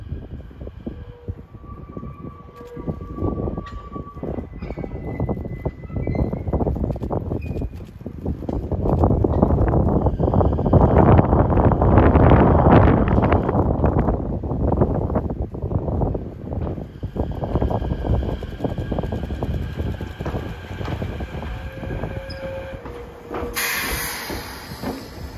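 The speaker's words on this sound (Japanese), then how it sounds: "奥から電車が出てきました" A two-car subway train on the Hibiya Line departs at night, rumbling past up close, the roar building to a loud peak midway then easing off, with squealing metallic tones and a brief chime near the end.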